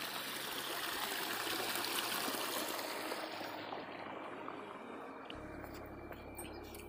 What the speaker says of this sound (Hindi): और अब यहाँ पे पानी, पानी आ गया।